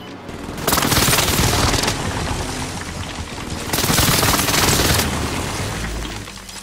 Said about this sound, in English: Airstrike on my target. This is Phoenix 3. Strike inbound.